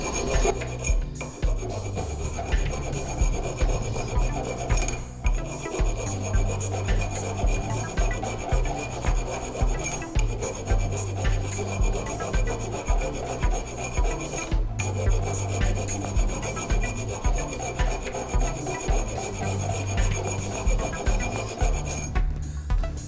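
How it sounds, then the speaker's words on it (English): A metal file rasps against the flared edge of a go-kart axle in steady, regular back-and-forth strokes, loud and close, repeating evenly throughout. "I use the flat part of the file for this, where it kind of flared up the edge of this axle"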